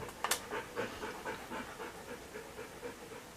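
A dog pants in quick, steady rhythmic breaths, a soft nearby huffing that repeats through a quiet room, with no talking.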